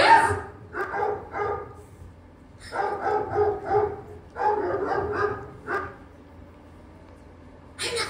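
A dog barks in short repeated bursts, several loud close barks in clusters separated by pauses, with a final bark at the end.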